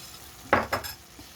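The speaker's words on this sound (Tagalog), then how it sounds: "Ayan, haluin natin guys. Para mag lapot-lapot siya guys." A spoon stirs beef and broccoli broth thickened with cornstarch in a pot, making two quick scraping swishes close together, then a faint tap, over a low quiet background.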